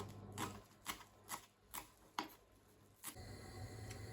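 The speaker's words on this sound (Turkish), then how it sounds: "Maydanozlarımızı da ince ince doğruyoruz." Parsley is finely chopped with a knife, a series of about seven faint, crisp taps on a cutting board at an uneven rhythm, followed by a soft low hum.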